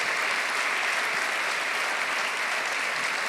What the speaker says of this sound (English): could I ask you to give Sadhguru a big round of applause